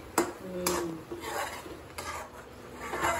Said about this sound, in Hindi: इसको ऐसे ही धीरे धीरे चलाते रहिए